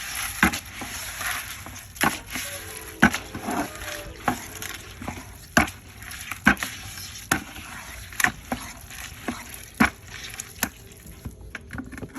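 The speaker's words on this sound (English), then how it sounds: "Just gonna stir it up." Fermented feed of black oil sunflower seeds, scratch grains and black soldier fly larvae stirred in a container for quail, chickens and goats, giving repeated wet sloshing scrapes and sharp knocks at an irregular rhythm, close up.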